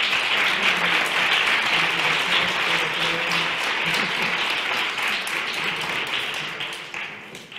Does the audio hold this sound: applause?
yes